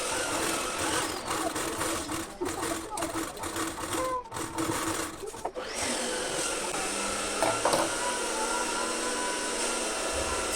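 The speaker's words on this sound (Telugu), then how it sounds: "అదే స్టిచ్ పైన డబల్ స్టిచ్ అయితే వేసేసుకోవాలి" A sewing machine double-stitches along a blouse seam with a fast, rhythmic mechanical whir that runs in bursts, pauses briefly, then continues as a steadier hum, close by with no clear talk over it.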